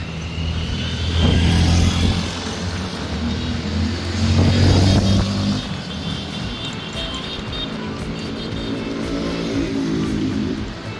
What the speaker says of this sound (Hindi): ट्रैफिक बहुत थी